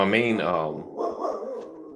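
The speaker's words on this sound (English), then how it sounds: "Got the old dog bark right there." A dog barks, a short, loud yelp followed by a softer whimpering tail, heard close up within about two seconds.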